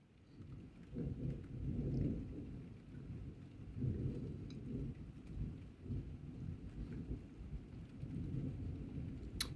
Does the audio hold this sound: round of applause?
no